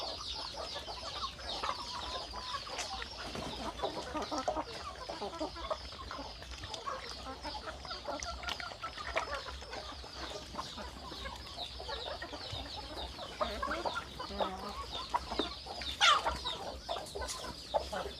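Farm chickens cluck and murmur continuously at morning feeding time after rain, a busy, moderately close flock sound with occasional louder calls and faint crowing.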